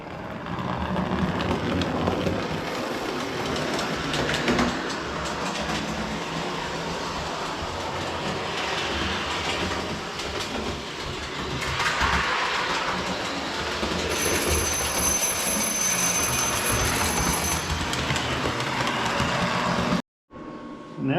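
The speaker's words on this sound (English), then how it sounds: "So we'll put this guy on the track, send him around." A Lionel postwar NW-2 switcher model locomotive runs around its toy track with a steady rolling clatter and rhythmic clickety-clack, occasional wheel squeals and rattles rising and falling for about twenty seconds before stopping abruptly.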